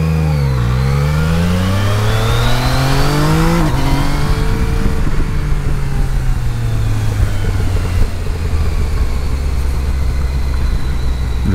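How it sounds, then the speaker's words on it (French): A Yamaha Niken three-wheeled motorcycle engine revs loudly and continuously, pitch climbing through gears, dropping sharply, then settling into a steady drone, up close and without talk. "Le bruit de ce moteur, par contre, c'est impressionnant."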